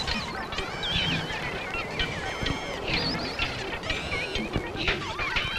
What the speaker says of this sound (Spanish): Viene Alejito, viene el pato.